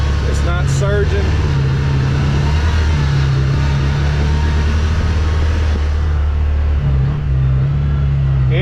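CFMOTO UFORCE 1000 side-by-side with an MSC tune, in low gear over rutted uneven ground, its engine droning loud and near with small swells in throttle, while someone talks over it.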